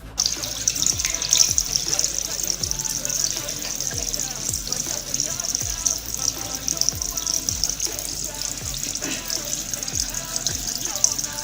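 Tap water gushes steadily over a hand coated in waterproof Mac Pancake foundation, a close, bright running stream with soft repeated low knocks underneath.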